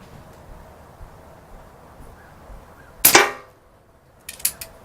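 A Diana Stormrider .177 PCP air rifle fires one sharp, loud shot, followed a second later by a quieter double crack, in an otherwise quiet setting.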